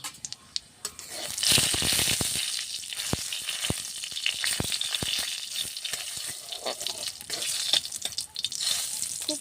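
A dried red chilli sizzles and fries in a small amount of hot oil, a steady close crackling hiss with sharp pops and spits running throughout.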